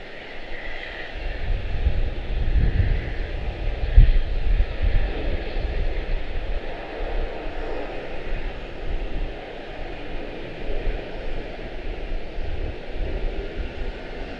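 An Airbus A319 departing Charlotte-Douglas airport for Chicago O'Hare, a steady distant jet engine roar with low rumble that swells slightly early on and then holds, with no voices.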